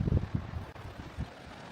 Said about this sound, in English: That'll excuse the wind. It's very windy down here.